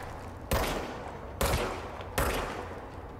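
Three loud, sharp gunshots from a weapon in the game Control, evenly spaced about a second apart, each with a short decaying tail.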